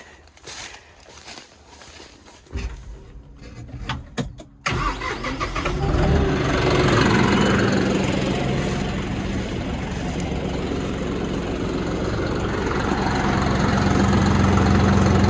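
A John Deere 5075E tractor with busted hydraulic lines cranks with a few uneven turns, catches, then settles into a loud, steady diesel idle that runs to the end.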